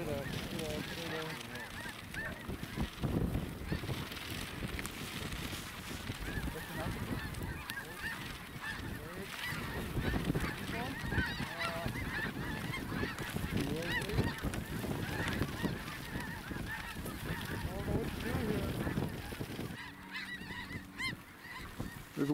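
A huge flock of snow geese honks continuously over decoys during a hunt, a dense, loud, unbroken chorus of overlapping calls with people's voices mixed in.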